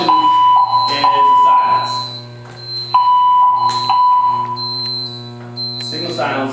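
A fire alarm sounds with a steady electronic tone in repeated bursts, while a person talks over it.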